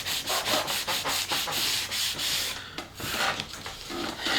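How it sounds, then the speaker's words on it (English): Sandpaper roughly sanding the wing of a Ritewing Mini Drak kit: quick back-and-forth rasping strokes in a steady rhythm, close and fairly soft, with a brief pause partway through. "take some sandpaper again and give this a nice rough sanding"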